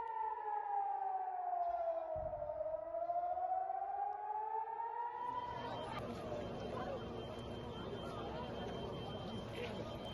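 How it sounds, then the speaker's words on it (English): A wailing air raid siren over southern Israel rises and falls, then gives way to a noisy crowd scene with overlapping voices and commotion. "Air raid sirens were heard over southern Israel as their projectiles approached."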